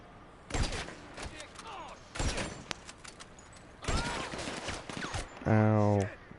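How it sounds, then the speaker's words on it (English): Several bursts of video-game gunfire from a PS4 mission ring out in separate loud volleys, followed by a short buzzing electronic tone. "I'm being shot."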